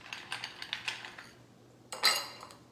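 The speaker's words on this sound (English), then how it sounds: "I'm going to start off by filling up my glass with ice." Ice cubes dropped into a glass while preparing a mocktail, a run of quick hard clinks and rattles that pause, then one louder clatter near the end, close up with no talking.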